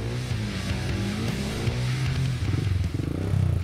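Trail motorcycle engine churning over rough, difficult terrain on a nature adventure trek in the East Java wilds, a steady low rumbling drone that pulses and surges toward the end, moderately loud with no speech.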